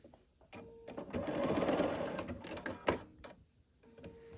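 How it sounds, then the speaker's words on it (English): A sewing machine stitching the seams of a quilt block, a close whirring run of rapid needle strokes lasting a few seconds, framed by brief clicks and handling noises before and after. "We just go ahead and sew the remaining 2 seams."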